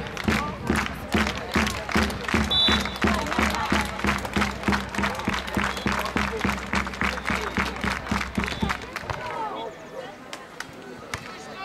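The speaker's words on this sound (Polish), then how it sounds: "a my wszyscy już klaszczemy" Spectators clap in a fast, steady rhythm at an outdoor beach volleyball match, loud and continuous for several seconds before thinning out, with a commentator speaking over it.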